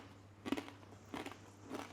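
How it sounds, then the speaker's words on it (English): Crisp crunch of biting into a homemade deep-fried tortilla chip, three distinct close bites spaced about half a second apart over faint background hum, with no talking. "Can you hear the crunch?"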